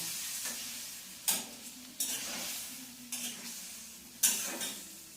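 Spices frying in a pan sizzle softly beneath several sharp scrapes and knocks of a spatula against metal, four distinct stirring strokes spaced a second or so apart.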